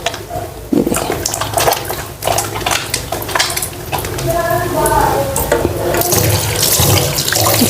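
A tap runs steadily while body wash is rinsed off, a loud, continuous close rush of water with sloshing and splashing throughout, no talking.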